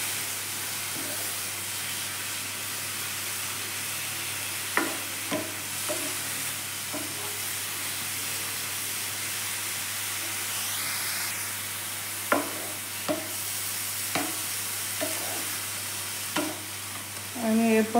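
Grated bottle gourd sizzles in a pan on the stove as it is stir-fried to cook off its water, a steady hiss broken by several sharp scrapes and clatters of the spatula.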